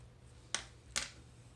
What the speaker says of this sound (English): so I use this scissor to cut it